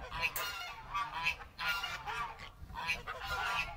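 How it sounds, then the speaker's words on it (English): A goose honks several times in quick, repeated bursts, fairly close, with rustling background noise between the calls. "Oh, I hear a goose."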